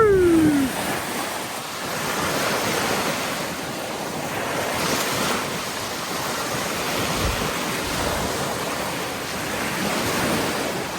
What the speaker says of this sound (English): the wind's become savage. Don't know if you can make it out behind me, but it's as rough as anything it is.